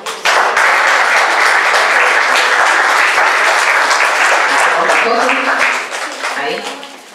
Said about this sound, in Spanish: Ahí está el aplauso.